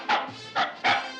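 A small cartoon dog gives three quick, high, yappy barks in an even rhythm, close and clear with no talk.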